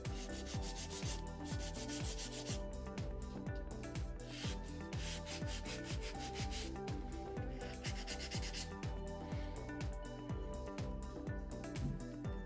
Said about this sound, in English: now all that's left to do is file this nail into shape